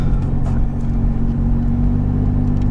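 A 2022 Toyota 4Runner TRD Off Road in stock mode pulls away slowly, heard from inside as a steady loud low engine and road rumble that builds only gently.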